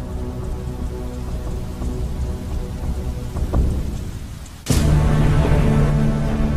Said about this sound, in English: the caustic liquid rains down on every corner of the globe, killing all the vegetation